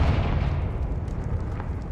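A Confringo fire spell blast from Hogwarts Legacy, with a sustained loud, rumbling low boom that holds steady for nearly two seconds without pausing.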